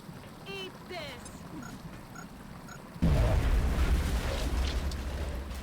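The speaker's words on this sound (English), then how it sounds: "let's make the floater a bit more accessible with a grenade from Andrea" A grenade exploding in XCOM Enemy Within, a sudden loud boom at about three seconds followed by a sustained rumbling roar, after a quieter stretch with game sounds and bits of talk.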